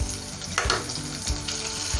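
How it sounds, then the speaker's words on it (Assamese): Onions with ginger-garlic paste sizzle and crackle steadily in hot oil, with a few soft stirring scrapes. "অকণমান ব্ৰাউন কালাৰ হোৱালৈকে মই ভাজি ল'ম"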